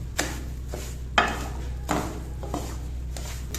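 Panjiri in a cooking pot, with sugar being stirred in, gives a few scattered scrapes and clinks of a spoon against the metal over a low steady hum, with no talk.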